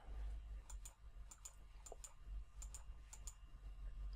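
Mouse clicks while working with the polygonal lasso tool in Photoshop, with the Alt key held, land as sharp, light taps in small clusters spread over a low steady hum, close and fairly quiet.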